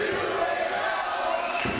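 A wrestling arena crowd at a tag team title match, loud and steady, a dense wall of cheering and shouting that swells slightly near the end.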